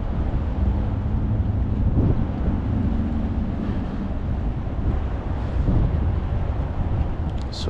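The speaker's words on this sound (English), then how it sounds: "It's a real windy day out here." Strong wind buffets the microphone on a windy river-delta shoreline by a fishing pier, a loud, steady roar with low rumbling gusts that continues throughout without any voices.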